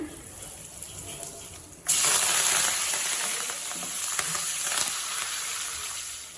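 Mustard seeds, cumin and hing hit hot oil for tempering, bursting into a sudden loud hiss that holds steady and slowly eases, with a few faint pops and no talking.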